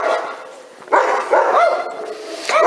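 Several dogs bark from both sides of a village street during a candidate's arrival, sharp repeated barks and yips in short bursts over a busy outdoor background.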